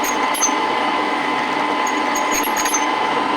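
A metal lathe turns a welded pulley, cutting it into a taper: a loud, steady mechanical whir with a constant hum and faint scraping of the cutting tool, with no pauses.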